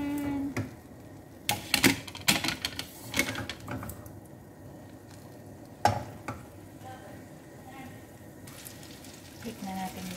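Food fries in a pan with a low background sizzle, punctuated by several sharp clacks and scrapes as it is stirred and flipped, while a voice talks at times.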